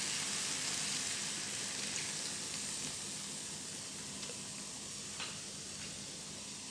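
Eggplant simmering in water in a pan for oil-free terong balado, a steady soft sizzle and bubbling hiss that holds evenly and fairly quietly throughout, with no voices.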